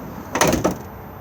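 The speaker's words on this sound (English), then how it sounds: "If I just open the sliding door," A sliding side door on an Auto-Trail V-Line 635 motorhome rolls open in one short, close rumbling slide lasting about a third of a second, with no talk over it.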